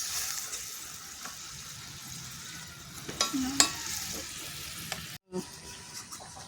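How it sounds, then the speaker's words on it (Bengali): A rohu fish and eggplant curry simmers and sizzles in a pan after water is added, a soft continuous crackle with a few sharper utensil scrapes and clicks near the middle and a short gap near the end, close and fairly quiet. "এবার আমি জল দিয়ে দিলাম দিয়ে ফুটে উঠলে তারপর একটু মাখা মাখা হবে"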